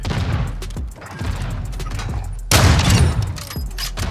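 Sniper rifle shots ring out in a video game, sharp booming cracks with a loud, dense burst of gunfire about halfway through, heard close and with no talking.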